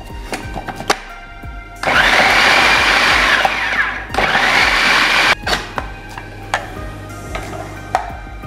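An electric blender grinds chicken with other ingredients for nargisi kofta, two loud sustained bursts of whirring motor separated by a short pause, with clicks and knocks around them.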